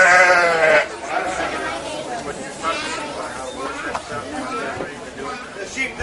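Sheep bleat loudly at a shearing, a strong close call at the start followed by further quieter bleats amid background people talking and general barnyard noise.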